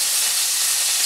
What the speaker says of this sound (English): I'm frying